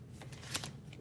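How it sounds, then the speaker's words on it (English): Tarot cards being shuffled by hand in a quiet room, a quick papery riffle with a bright burst in the middle of the second-long stretch, close and fairly soft. "That was not a good shuffle."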